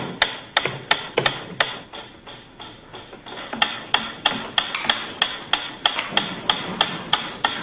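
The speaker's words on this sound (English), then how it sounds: "A ticking metronome." A ticking metronome gives a steady series of sharp, evenly spaced clicks, about two per second, loud and close, with a brief pause partway through before the beat resumes.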